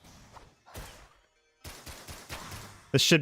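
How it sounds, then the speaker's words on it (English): Shotgun blasts in Risk of Rain Returns, several sharp percussive bursts spaced irregularly with short gaps, the last one the loudest and harshest, under someone talking. "this is literally just shoot this guy in the face with shotguns"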